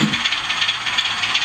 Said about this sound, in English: It's come down to a tick over level.